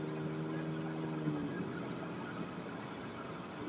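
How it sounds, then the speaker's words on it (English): A car with no catalytic converter rumbles loudly and steadily nearby, a deep droning exhaust note with a brief tonal whine in the first second and a half. "That car sounds like it does not have a catalytic converter at all."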